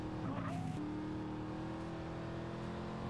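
A car in GTA San Andreas is driven wildly: a sharp tire squeal and skid at the start gives way to a steady, droning engine under continuous game noise, with no speech.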